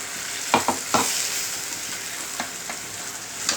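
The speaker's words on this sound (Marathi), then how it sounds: "त्याच्याबरोबर हे थोडंसं व्यवस्थित परतवून घ्यायचं आहे" A ground paste of garlic, green chilli, cumin and roasted peanuts sizzles in oil, with a steady frying hiss and a few quick spatula scrapes and taps as it is stirred.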